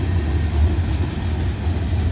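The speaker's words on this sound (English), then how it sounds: "Now that train is going slow enough, it might be going to stop at the south end" An empty freight train with center flow cars and high side gondolas rolls slowly past, a loud continuous low rumble with steady rail noise and no voices.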